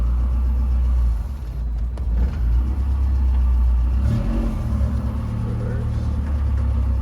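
A Toyota car with a newly replaced clutch pulls away in first gear, its engine a loud, close rumble that rises and dips with the throttle, with a brief voice over it.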